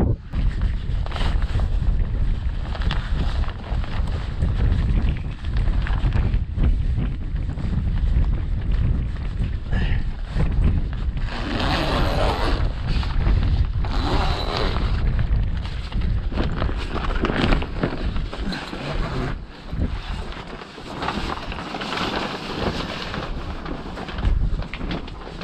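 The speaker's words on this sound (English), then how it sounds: "Walls didn't help any because the wind is coming from this direction" Wind roars steadily across a frozen lake at an ice fishing camp, buffeting the microphone with loud rushing gusts that shift in strength throughout.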